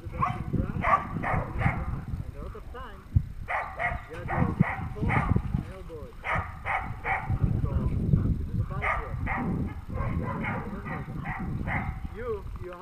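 A dog barks and whimpers in repeated short bursts during protection training, close and fairly loud, with steady low rumbling and handling noise beneath.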